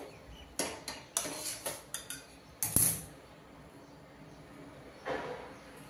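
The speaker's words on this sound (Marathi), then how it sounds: "हे झाकण ठेवतेय मी" Metal pan lid set on a pan of modak filling cooking over a gas flame, a string of light clinks and clatters followed by a sharper clang, then quiet with one faint rattle near the end.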